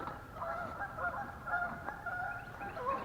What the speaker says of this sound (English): Boy, the geese are just going crazy.